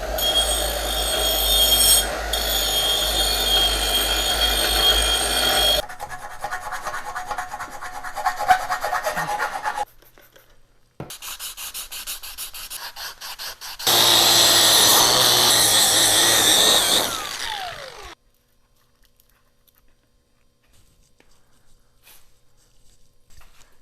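A power tool grinds powder coating off the bottom of a steel coilover spring perch, producing loud, harsh abrasive rasping in several sustained runs with brief pauses, then falls quiet.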